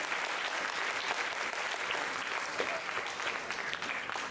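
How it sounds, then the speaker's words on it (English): A large audience at an Indian school event breaks into a sustained, dense round of applause for visiting students and teachers, steady and loud throughout with no talking over it. "Give a big round of applause to all the students and teachers who came from different schools"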